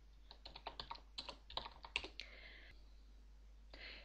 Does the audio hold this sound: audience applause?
no